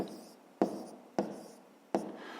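Pen or pencil writing a math answer on paper during a fifth-grade math exercise, three sharp strokes starting at regular intervals, each trailing into a softer scratching tail, close and fairly quiet.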